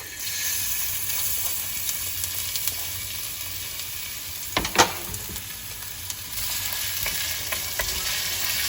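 Ginger and garlic hit hot oil in a pan for Kerala-style chammanthi podi, giving a steady, close sizzle and hiss throughout, with a brief stir or clatter midway.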